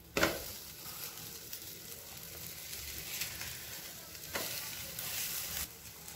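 Poha and buttermilk snack pieces fry in a covered pan over a medium-low flame, giving a steady, moderate sizzle with a sharper burst near the start and a brief swell later on.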